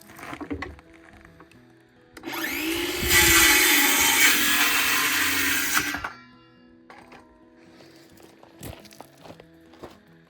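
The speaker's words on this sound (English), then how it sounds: "So I should be able to rip down a 2x4 stud into these two handles that I need." A saw rips a wooden 2x4 stud lengthwise into handles: a loud, steady cutting roar lasting about four seconds, with quieter workshop clatter and footsteps before and after.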